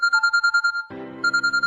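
Mobile phone ringtone chiming in rapid repeating electronic pulses, cut off briefly by a lower buzzing burst before the bright tone resumes, close and clear.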